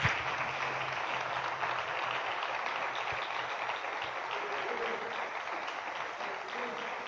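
A church congregation applauds during an evening service, a continuous wash of clapping held at an even level for several seconds, with voices mixed in beneath it.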